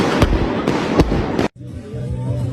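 A firecracker bursts several times in quick succession, loud sharp cracks close by, followed by an abrupt drop to quieter background noise.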